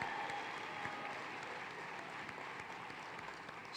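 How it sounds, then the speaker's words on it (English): An audience at the International Conference on Family Planning applauds for Jess, a dense, even wash of clapping from a large crowd, fairly faint and distant, holding steady for several seconds before swelling slightly at the end. "Another big round of applause for Jess"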